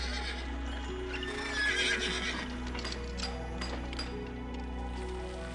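Horses neigh and whinny amid clip-clopping hooves in the city-building game Zeus: Master of Olympus, steady and fairly loud over a continuous low hum of game ambience.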